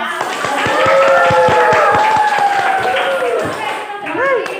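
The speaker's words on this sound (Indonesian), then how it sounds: "Berikan aplaus." Students applaud at the close of a high school physics lesson, sharp claps rising in a dense burst under overlapping voices and singing-like tones before tapering off.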